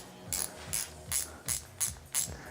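A ratchet snugging up a bolt on a Nissan 200SX during cooling system work, six quick clicking bursts in a steady rhythm, close and alone.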